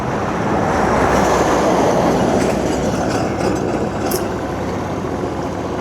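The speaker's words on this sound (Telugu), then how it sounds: "కింద ట్రైన్ వెళ్తుంది" A train passes beneath a road bridge, giving a loud, continuous rumbling roar that holds steady throughout with no voices.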